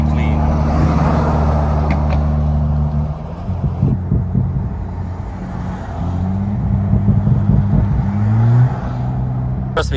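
Mercedes-Benz AMG GT with a large carbon fiber wing, its engine droning loud and steady up close, pitch stepping and rising in revving pulls under the cabin rumble.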